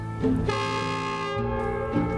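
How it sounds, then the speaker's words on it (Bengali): A train approaches at nightfall, sounding a loud, sustained multi-tone horn. The horn comes as a couple of long blasts with slight pitch shifts and no talking. "ওই যে দেখো ট্রেন আসছে"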